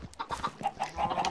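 Chickens cluck repeatedly on a chicken farm in a Minecraft-style video game, with rapid, close, busy clucks overlapping in a steady stream and no talking.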